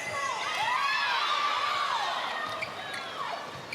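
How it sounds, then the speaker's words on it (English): A netball arena crowd at a 2009 ANZ Championship game between Magic and Tactix keeps up a loud, steady roar of voices and calls, with a commentator talking over it. "And the crowd calling Howard."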